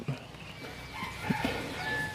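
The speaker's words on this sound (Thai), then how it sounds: "นี่คือพันธุ์หูขาวครับผม ตัวนี้เป็นไก่หนุ่มอยู่นะครับ" A young white-eared Japanese Phoenix rooster gives soft, short clucks and calls at close range, a few scattered sounds over quiet background noise.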